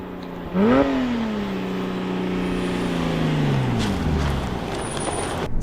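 A Porsche Cayman R's flat-six engine climbing to 7000 rpm from inside the car: a loud, steady rising drone that begins with a quick jump, then holds and slowly falls off.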